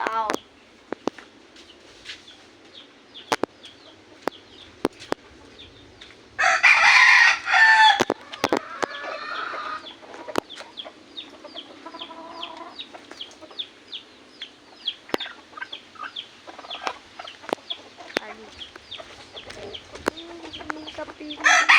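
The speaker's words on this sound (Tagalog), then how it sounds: "Meron po tayong manok." A rooster crows loudly nearby while chickens cluck steadily throughout, with scattered clicks and thumps in the background.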